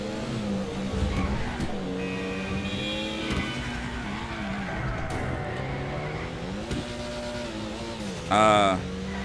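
Engine of the Pfister Comet Safari, a rally-style sports car, driving off-road in GTA Online, steady revving with shifting pitch and a brief tire squeal near the end, heard under continuous talking.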